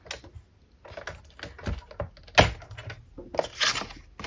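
A craft knife blade cuts through a paper card for a double-panel Christmas card: a series of short, close scratchy scrapes and small taps, with an irregular rhythm and no talk.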